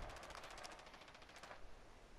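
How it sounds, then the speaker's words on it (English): Very faint distant bursts of automatic gunfire in the Rainbow Six Siege video game, rapid repeated shots rattling for about two seconds. "I hear gunfire."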